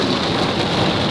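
Dense, heavy rain pours steadily in a loud continuous wash, with a low rumble of thunder beneath it.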